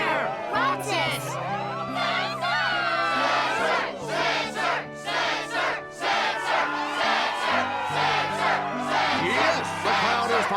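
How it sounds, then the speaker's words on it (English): Crowd cheering and shouting at the Struggle match in the Kingdom Hearts 2 video game, loud sustained chanting and whoops layered over game music, with voices talking over it. "Yes, the crowd is fired up"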